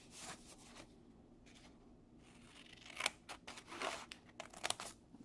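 Scissors snipping the corners off paper for a homemade envelope: quiet, close crisp cuts and light paper rustle, coming in short irregular bursts, busier toward the end.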